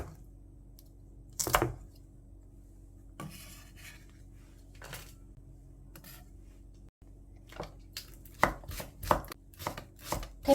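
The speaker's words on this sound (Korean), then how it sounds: "청양고추 3개 정도 준비를 했는데요. 송송송 썰어서 준비해 놓고" Knife slicing Cheongyang green chili peppers on a board, with scattered sharp cuts and knocks that grow into a quicker cluster toward the end over a quiet background hum.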